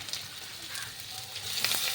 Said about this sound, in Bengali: ওই তেলেই কিছু আলু ভেজে নিচ্ছি,